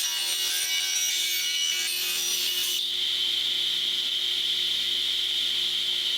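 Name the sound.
saw blade cutting a wooden trim board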